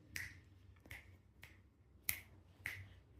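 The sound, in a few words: fingers snapping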